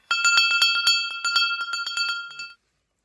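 A small metal bell with its clapper attached, found while metal detecting, rings in quick repeated strikes, about a dozen bright clear chimes with a shimmering tone, close and fairly loud, then stops.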